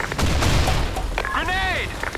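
Grenade blast in the shooter game BlackShot, a loud low boom at the start that rumbles away, followed by a short warbling electronic tone and clipped game voice lines.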